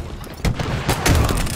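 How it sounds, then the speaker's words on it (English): A grenade goes off in Halo Infinite with a few short, loud booming bursts packed into barely two seconds, heard up close. "Tossing a nade."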